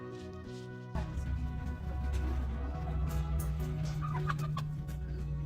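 Chickens and roosters cluck at a Sunday farmers market stall in Australia, with scattered clucks rising over a steady low hum and general market bustle.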